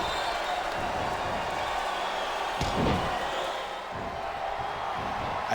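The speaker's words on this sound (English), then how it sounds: "I think this crowd's giving these superstars a piece of their minds, King." A wrestling arena crowd roars continuously during a first blood match in the Smackdown Vs Raw 2008 video game, with a brief slam-like thud partway through and commentators talking over the noise.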